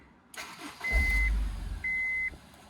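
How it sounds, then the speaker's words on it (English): A Honda S2000 engine cranks and catches, settling into a low idle, with a couple of short electronic beeps from the dashboard. "Let's go ahead and turn the car on."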